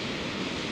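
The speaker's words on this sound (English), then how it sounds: "the play of the water going over the dam" River water pours over a dam in a steady, broadband rush, a brief, even wash of sound with no voices.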